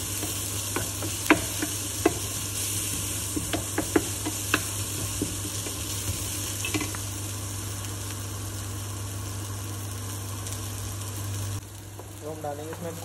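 Bell peppers sautéing in a pan for street-style pasta, a continuous sizzle with scattered clicks of stirring, over a steady low hum, softening near the end.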